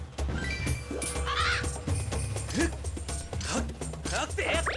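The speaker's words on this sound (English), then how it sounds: "Oh great, these birds." Birds caw in The Legend of Zelda: Skyward Sword, several harsh squawking calls spread across the moment over steady game background sound.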